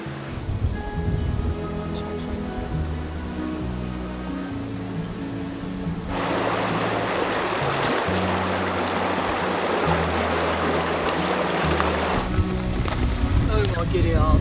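A peaceful little river flows with a soft, continuous wash of water, most evident through the middle stretch, mixed with steady tonal background sounds.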